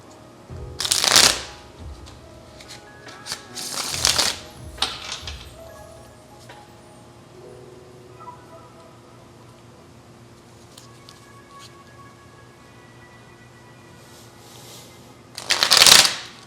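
Palladini tarot deck being shuffled in a few separate loud riffling bursts near the start and again at the end, with quieter card handling and faint background sound in between.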